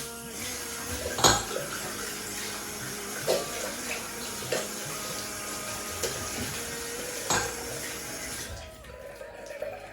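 Water runs steadily from a tap as hands are washed at a Sikh gurdwara in Edinburgh, a continuous rushing stream with a few sharp knocks and clinks, cutting off abruptly near the end.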